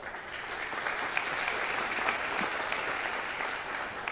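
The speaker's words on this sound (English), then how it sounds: "I never thought I'd get an applause for data management" Enthusiastic audience applause at a mayor's public address, loud, dense and steady throughout, with no talking over it.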